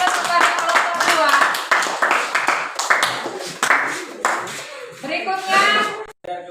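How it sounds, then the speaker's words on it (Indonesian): Classroom group applauding a presenting group of students, brisk hand clapping that starts dense and fades into scattered claps within a few seconds, close and loud, with voices mixed in. "beri aplaus kepada kelompok dua"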